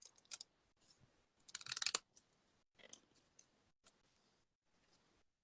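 Scissors cutting card for a handmade snowman card, a series of crisp close snips and papery crunches in irregular bursts, one longer cut in the middle, quiet between, no talk.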